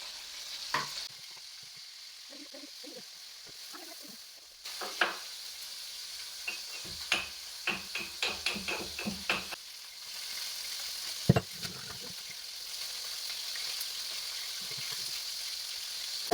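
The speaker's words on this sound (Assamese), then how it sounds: "মানে কমকৈ ফ্ৰাই কৰিম মাছখিনি" Fish frying lightly in a pan gives a continuous close sizzle and hiss, broken by bursts of crackling spatter and a few sharp clinks from stirring partway through.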